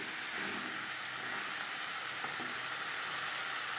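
Potatoes and onions fry in a pan over a medium flame, a steady, even sizzle with soft crackling throughout and no voices.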